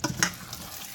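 Guyanese chicken curry simmers in a pot, giving a soft bubbling sizzle with a couple of brief louder pops near the start, quiet and close, with no talking.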